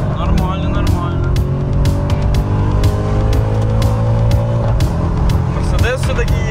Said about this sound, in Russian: Мерседес все-таки едет, а не БМВ.